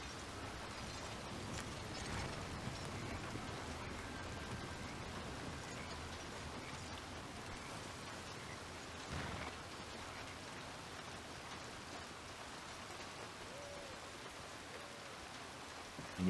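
Steady rain falls throughout in a Wild West roleplay video game, an even hiss of drops on surfaces with no pauses and a brief louder burst partway through.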